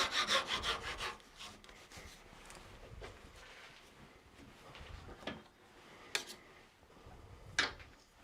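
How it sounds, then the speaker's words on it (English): A small pull saw cuts through ash wood on a turned nut bowl, quiet rasping strokes at first in quick rhythm, then slower scattered scrapes and ticks, close and alone. "I will now cut this off with my little trusty pull saw"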